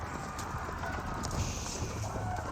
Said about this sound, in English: This horse is starting to fall back